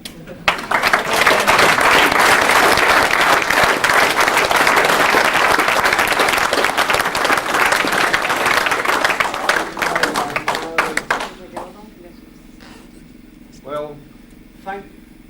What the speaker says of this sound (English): I would like you all to stand now and clap or accord the due accord to Mr. Colin Finlay as he comes forward to receive this medal.